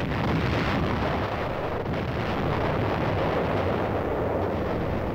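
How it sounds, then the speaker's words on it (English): Naval guns of UN fleet ships bombard Wolmi island off Incheon during the Korean War, a continuous heavy roar of rumbling gunfire and distant booms that fills the whole stretch without any voices. "Ships of the UN fleet fire point blank at the island."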